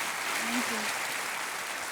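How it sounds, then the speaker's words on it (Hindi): Studio audience applause on a televised quiz show set, a dense steady wash of clapping filling the short stretch, with a brief faint tonal voice-like blip underneath. "तालियों के साथ इनका अभिनंदन करते हैं।"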